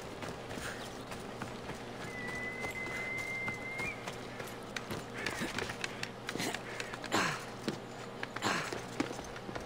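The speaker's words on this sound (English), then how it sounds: "We'll get out of the city and hop on a horse." Horse hooves clip-clop at a steady run in Assassin's Creed Odyssey, mixed with ambient game sound and a faint whistle-like tone, with no one talking.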